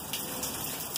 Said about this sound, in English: It has been raining solid heavy all day.